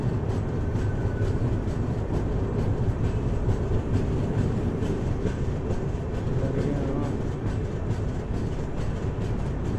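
The Tatanagar–Ernakulam Express passes close by with a continuous heavy rumble and rhythmic clatter of wheels over rail joints, loud and steady throughout, with faint voices under it.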